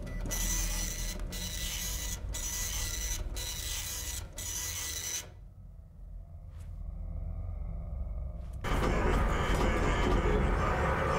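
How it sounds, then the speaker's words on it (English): A printer from the video game Observer prints out a card, with a mechanical whirring and rhythmic clacking pulses, then a pause with a faint hum before the printing resumes loudly. "Once you've done it, you'll hear a printer go off,"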